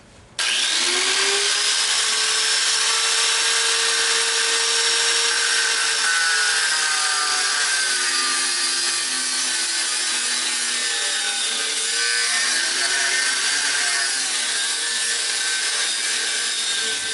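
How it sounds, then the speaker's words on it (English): A grinding tool cuts through a metal weld on a transformer casing, a loud steady whine running without pause for the whole stretch, its pitch sagging and wavering as the disc bites into the metal. "you want to cut the weld off with some type of grinding tool here"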